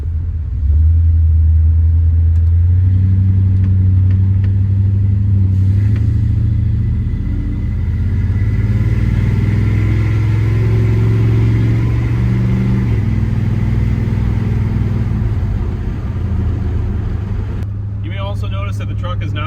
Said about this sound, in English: That the truck is not very loud.